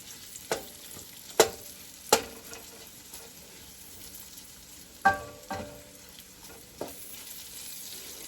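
Beef fries in grease in a pot for beef and shrimp gumbo, a low constant sizzle punctuated by a handful of sharp spoon-against-pot knocks and scrapes spread over several seconds, with no talking.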